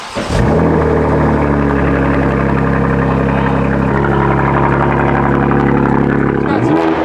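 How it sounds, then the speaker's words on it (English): A BMW M340i fitted with an AWE track exhaust fires up and settles into a loud, steady idle, a deep continuous drone with a rise at startup and a small blip near the end. "We're ready to bring this thing down to the ground for the first time and hear it with AWE track exhaust."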